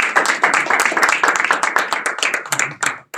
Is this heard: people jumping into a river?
no